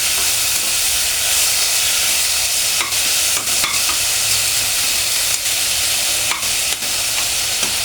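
Onions frying in a pan until golden brown give a steady, close sizzle that runs the whole time, with a few sharp scrapes of stirring breaking through and no talking.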